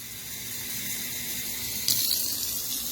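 Ordinary tap water runs from a sink faucet into a glass in a steady close hiss, with a brief brighter splash near the end.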